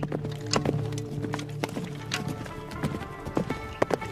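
A horse gallops with a mounted archer in the saddle, its hooves clip-clopping in a steady rapid beat close by and fairly loud, with a faint neigh near the end.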